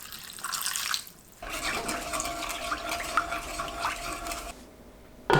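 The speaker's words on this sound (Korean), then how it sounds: "병아리콩, 설탕 2큰술, 미림 2큰술, 진간장 11큰술, 물 600ml 넣고 섞어주세요." Water, soy sauce, sugar and mirin poured over chickpeas into a cooking pot, a steady splashing pour with small clinks, running for several seconds with a brief pause, no talking.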